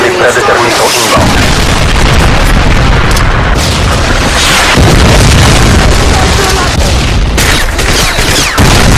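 Predator missile strikes in a Call of Duty-style Domination match on the Wasteland map: continuous loud booming explosions and bursts layered with gunfire, with voices talking over the chaos throughout.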